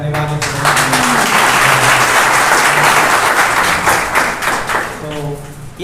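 A church congregation at a morning mission-trip session in Gujarat breaks into loud, sustained applause lasting several seconds, with a speaking voice before and after the clapping.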